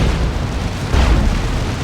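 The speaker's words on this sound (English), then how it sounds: "Cyclone missile launcher barrage." Cyclone missile launcher barrage in the Warhammer 40k strategy game Dawn of War 2, a dense, loud rumbling wall of overlapping explosions and booms with no clear gaps.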